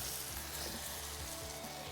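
Mussels cook in a pot and give off a steady, dense sizzle that stays even from start to finish, with no voices over it.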